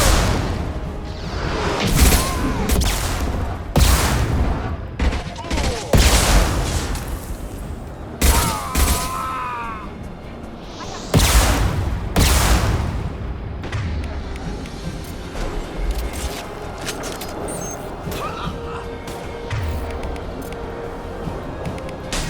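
Gunfire and booming shots in the video game Mass Effect, bursts of firing repeating at uneven intervals over a busy battle mix with whooshes, loud and close.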